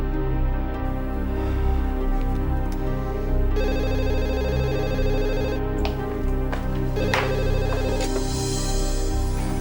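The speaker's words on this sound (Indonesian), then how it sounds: "Aku harus telepon Desi sekarang." A telephone ringtone on an outgoing call, repeated electronic ringing tones sounding steadily and close for several seconds with no talk.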